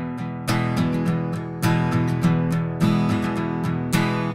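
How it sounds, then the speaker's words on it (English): Acoustic guitar playing a chorus rhythm, steady strumming with sharply accented chords on the two and four backbeat, loud and close with no talking over it. "So you hear more of an accented chord on the 2 and the 4."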